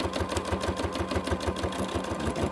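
A sewing machine running steadily during free motion quilting, its needle thumping in a quick, even rhythm with a continuous mechanical hum, close and moderately loud, with no talking.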